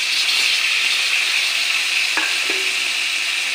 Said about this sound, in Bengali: এখন কেটে রাখা সবজিগুলো দিয়ে দেব